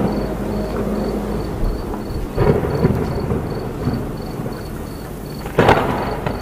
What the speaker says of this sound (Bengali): আকাশে ঘন ঘন বিদ্যুতের চমক আর বাজ পড়ার শব্দ।